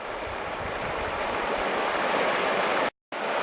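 The Mersey River runs fast over a trout stretch, a loud, steady rushing hiss of water heard up close, broken by a brief dropout near the end.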